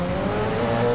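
An Alienware Porsche race car in a racing video game drones through the final corners with a steady, close engine note for about a second.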